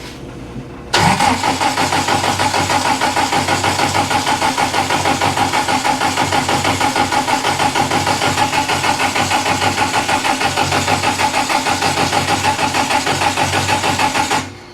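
After a brief crank an engine catches and fires, then settles into a loud, steady, rough idle that runs for well over ten seconds before cutting off at the end.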